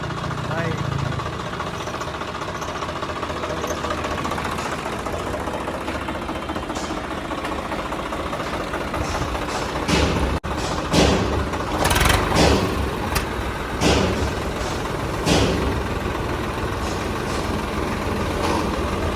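A 20-model tractor for sale in a Punjab village idles with a steady low engine rumble throughout. People talk over it, and louder clunks and revving bursts come later.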